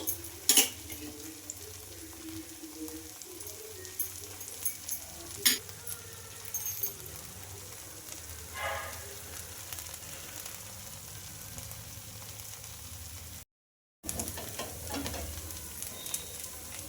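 Dosa frying on a pan with oil drizzled over the top, a low steady sizzle with occasional clinks and scraping from a spatula, a few sharp ticks and a brief gap.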